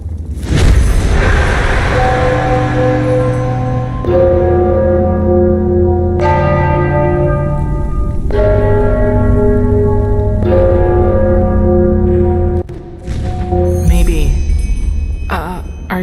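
Ringing bells in Enderal, a Skyrim mod: loud, sustained church-bell strikes tolling one after another every couple of seconds, each with a long resonant hum that overlaps the next.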